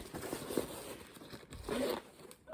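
A thick zipper on a Savotta Jääkäri L rucksack being pulled open in a few quick, rasping strokes, close by, with a brief pause between pulls.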